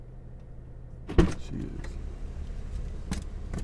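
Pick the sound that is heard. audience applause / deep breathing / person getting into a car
person getting into a car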